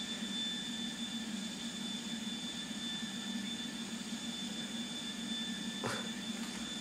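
Engines of an airliner converted into a limousine run as a steady droning roar with a thin high-pitched whine on top, constant and moderately quiet. A brief knock or clatter breaks in near the end, and no one speaks.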